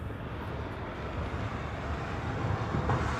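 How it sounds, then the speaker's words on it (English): A Global 5000 business jet sits lined up for departure at Honolulu airport, its engines giving a steady, broad rumbling roar that swells slightly toward the end. "So that Global 5000 is lined up for departure."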